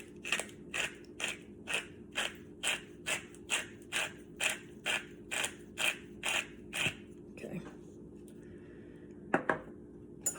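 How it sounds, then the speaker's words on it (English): A hand grinder of Himalayan pink salt or pepper is turned in a kitchen, giving about fifteen evenly spaced crunchy ratcheting twists, close and fairly quiet, followed by a few softer handling clicks. "This is a grinder, so I'm just going to have to guess at it."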